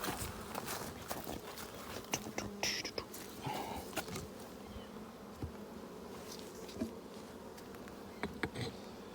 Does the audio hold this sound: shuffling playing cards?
no